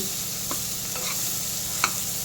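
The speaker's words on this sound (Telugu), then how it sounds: "టమాటాలు పచ్చిమిరకాయలు అండ్ చింతపండు వేసి బాగా డీప్ ఫ్రై చేసుకోవాలి" Tomatoes, green chillies and tamarind fry in a pan with a steady, hissing sizzle, broken by a few faint scrapes and taps of a stirring spoon, close and alone.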